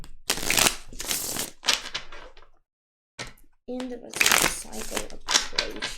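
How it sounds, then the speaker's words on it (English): Rapid papery riffling of a tarot deck being shuffled in close bursts, broken by a short silence, with someone talking over it. "The whole time I was shuffling these cards"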